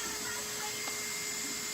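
A Yokomo YD-2 RC drift car's electric motor emits a faint, steady high-pitched whine under light throttle, holding an even tone without a clear rise in pitch.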